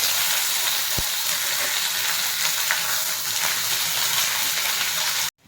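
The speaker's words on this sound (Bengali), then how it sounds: "ফোড়নটা ভাজা হয়ে গেছে এবার আমি পেঁয়াজ কুচিটা দিয়ে দেবো" Chopped onions frying in hot mustard oil, a loud, continuous crackling sizzle close to the pan with a brief knock near the start, ending suddenly, with no talk.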